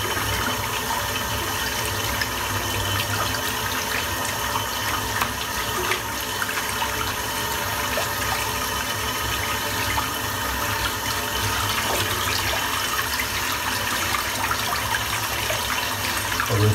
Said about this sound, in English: I'm going to rinse the soap out